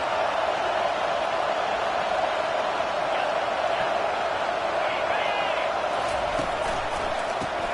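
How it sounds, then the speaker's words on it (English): A football stadium crowd roars during a red zone defensive stand, a dense, continuous wall of noise with faint whistles or shouts rising out of it. "And here comes the noise. This crowd is trying to inspire this defense to make a big red zone stop."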